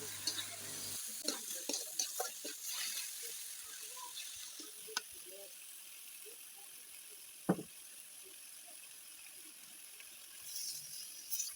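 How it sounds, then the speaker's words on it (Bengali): Chopped onions fry in hot oil in a wok, giving a steady soft sizzle with occasional stirring scrapes and a sharp knock, fairly quiet throughout with no voices. "প্রথমে কড়াইতে তেল দিয়ে গরম হওয়ার পর পেঁয়াজ কুচি দিয়ে ভেজে নিতে হবে"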